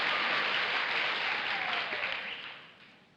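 Studio audience applause on the What's My Line television game show: steady, dense clapping that holds, then fades away over the last second.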